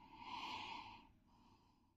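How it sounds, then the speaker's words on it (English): A person takes a single drawn-out sniff over a glass of whisky, a soft, close breathy inhale followed by a shorter, fainter second breath. "So first we do the sniffle."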